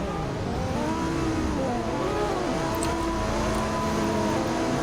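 Race car engines from a GT3 racing video game on a Qatar circuit, a steady droning whine whose pitch rises and falls with shifting revs, continuous and fairly loud throughout.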